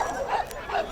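A dog barks twice in short bursts, close by, during a city dog walk in Lusaka, over a low background murmur.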